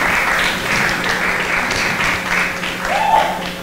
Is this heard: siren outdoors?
no